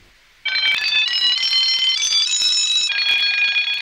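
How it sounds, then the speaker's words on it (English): An electronic alarm starts abruptly after a moment of quiet and rings continuously, a loud, close, shrill tone that shifts pitch slightly in steps, with no one speaking. "Soon came the alarm."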